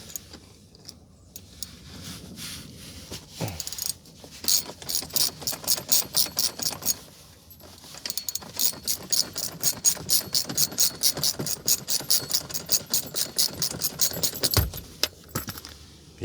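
Ratchet turning out the armrest bolt on a 2020-2026 Toyota Highlander captain's seat: bursts of fast, close, metallic clicking come in two long runs separated by a short pause, with no talking.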